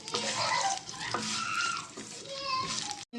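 A tempering of urad dal, curry leaves, garlic and mustard seeds fries in oil for coconut chutney, a close crackling sizzle with stirring, while voices, including a child's, are heard over it.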